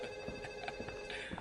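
A telephone bell rings steadily and close, a continuous electronic trill with no talk over it, in a Korean movie dubbed into Tagalog.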